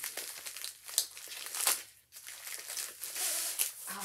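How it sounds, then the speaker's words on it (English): Plastic packaging of a diamond painting kit being pulled and torn open by hand, a close, continuous crinkling and crackling with brief pauses, no voices. "Sometimes these are just easier to pull open than they are to cut."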